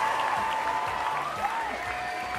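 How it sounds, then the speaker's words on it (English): A crowd cheers and claps during a live craft stream on layering koi fish stencils, steady dense applause filling the whole stretch at fairly close range with no talk. "I'm gonna wait for the cheering to stop."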